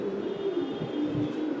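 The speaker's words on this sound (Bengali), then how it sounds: "খুব ভালো কবুতর, সুপারম্যান।" A racing pigeon coos nearby in a low, rolling murmur lasting a couple of seconds, close and moderately loud against faint background hum.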